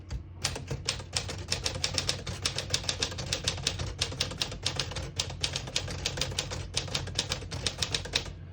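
Rapid, evenly spaced keystrikes on a 1954 Smith-Corona Silent portable typewriter, a dense run of crisp mechanical clacks continuing for several seconds with no voices.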